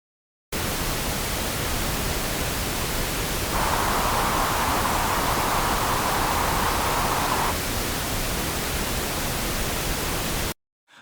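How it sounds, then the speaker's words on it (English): Broadband pink noise hisses evenly on its own, and for roughly four seconds mid-stretch a 1 kHz octave-band boost adds an open, 'ah'-like tint before the plain hiss resumes. "One kilohertz boosted sounds like ah."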